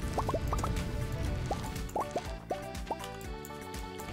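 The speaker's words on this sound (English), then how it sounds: "today is the last day we'll have to water these crops" Water trickling from a watering can onto crops in Stardew Valley, heard as a soft stream with scattered light droplet plinks over steady game music, clustered near the start and recurring at intervals.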